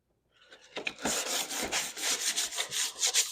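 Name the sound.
sanding a surface on a motorcycle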